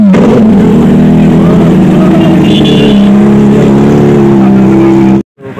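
A 1000cc Hayabusa superbike engine on a Republic Day group ride drones loudly and steadily up close, its deep tonal hum shifting slightly in pitch before cutting off abruptly near the end.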